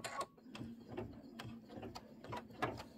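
An embroidery machine stitches a loop tack-down line with a quick, uneven run of mechanical clicks and thumps over a low motor hum, fairly quiet and close, with no talking.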